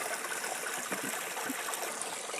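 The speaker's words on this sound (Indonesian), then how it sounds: "Dari mata air sana saya alirkan ke tandon sini." Clear spring water running from a source into a storage tank for a hydraulic ram pump, a steady close trickling and splashing flow with no pauses and no voices.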